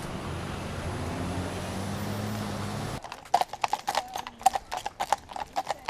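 A horse's hooves clop on a street in a crisp, uneven rhythm of sharp knocks, close by, following a stretch of steady low traffic rumble.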